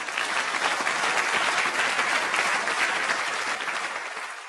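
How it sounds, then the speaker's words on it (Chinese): Sustained, loud applause from a studio audience at a Tianjin TV crosstalk comedy show, dense clapping that holds steady and begins to taper off near the end. "我一说出来掌声四起"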